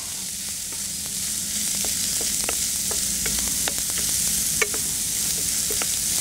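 Garlic and onion fry in a pan with a steady sizzle and crackle, scattered sharp pops and stirring scrapes over a constant hiss, close and moderately loud with no talk.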